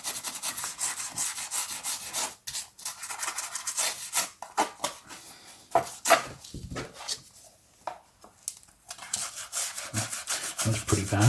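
Rubbing at a price mark on the cover of a vintage Pan paperback, with dry, scratchy strokes that come in uneven bursts, close and fairly quiet, broken by brief pauses.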